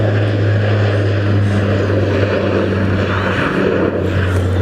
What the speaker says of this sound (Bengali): বিমানটা ফ্লাইং হয়ে গেছে।